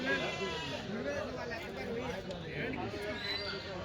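Rams and sheep bleating at the weekly Tuesday sheep and goat market in Kadiri, wavering cries overlapping amid crowd chatter, with people bargaining nearby.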